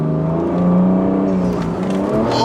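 A BMW F30 340i on a flex fuel tune pulling hard in second gear, its engine loud and close with a rising, strained drone that climbs steadily, then wavers and cuts back near the end.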